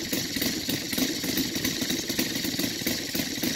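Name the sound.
Saito FG-84 model aircraft engine idling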